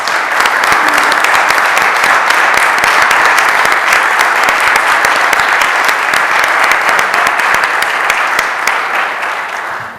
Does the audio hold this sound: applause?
yes